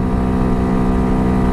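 Hawk DLX dual-sport motorcycle with a sprocket and chain upgrade, running flat out at top speed: a loud, steady engine drone with constant low rumble and wind, no change in pitch, no talk.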